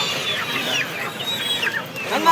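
Chickens cluck and chirp softly and steadily, several birds close by at a poultry market, over a constant background hum with no talking.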